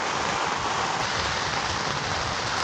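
Heavy rain pours down on a campsite tent in a dense, steady hiss that fills the air, close and constant with no break and no voices.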